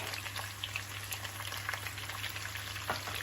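Zucchini sautés in a pan with a steady close crackling sizzle, broken by occasional soft scrapes and taps as it is stirred, over a constant low hum.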